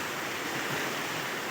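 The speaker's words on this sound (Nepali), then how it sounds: "पानीको बेग सबै यहाँबाट यस्तो आएको छ है" Floodwater rushes across a freshly planted rice paddy in eastern Chitwan, a steady, close broadband roar of churning water with no voices over it.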